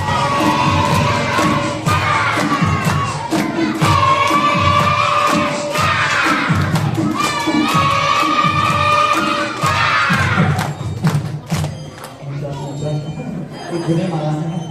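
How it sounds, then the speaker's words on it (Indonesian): Children at a storytelling session clap in rhythm and shout loudly together in bursts, a dense crowd of young voices cheering close by, fading into an adult speaking near the end. "tepuk tangan sambil teriak"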